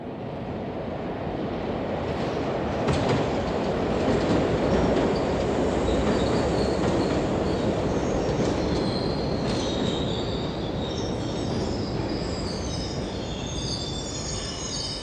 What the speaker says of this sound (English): The train arriving on Platform 1 will begin your journey.